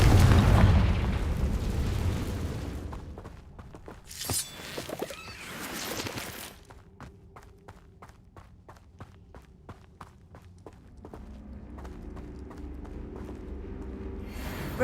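Confringo spell blasting in a video game, with a loud booming explosion and rumble at the start, then a second burst, followed by a run of quick regular footsteps and softer game ambience.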